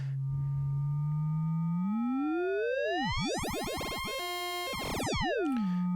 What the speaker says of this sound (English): if I take another sine and put it into the FM input here